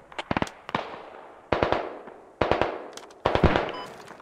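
MG3 machine gun fire in the tactical shooter game Squad, heard as several loud, close bursts of rapid shots, each with a long reverberant tail that echoes away between bursts.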